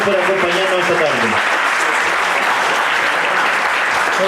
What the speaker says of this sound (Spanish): denle un fuerte aplauso a ellos